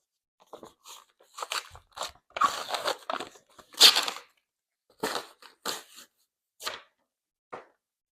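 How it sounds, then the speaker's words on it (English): A paperback book's cover being peeled and pulled off the binding, a string of dry crackling, crunchy tearing bursts of varying length, close and fairly quiet, with no talking. "So the paperback, it's pretty easy to just kind of peel it, pull it off."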